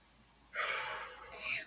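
A person yawns once, a breathy drawn-out exhale rising after a brief quiet moment, fairly close and moderately loud, with a short second swell near the end.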